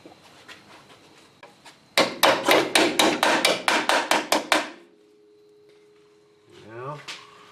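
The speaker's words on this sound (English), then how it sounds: "Just gonna hammer that in too." About a dozen rapid, sharp metal hammer blows ring out in a quick burst while installing front struts on a 1993-2002 Firebird Trans Am or Camaro, with soft talk and workshop noise before and after.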